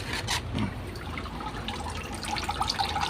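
Water poured from a small vessel onto the soil of a freshly repotted houseplant, a soft continuous trickle and patter with faint drips, close and steady for a few seconds, no talking.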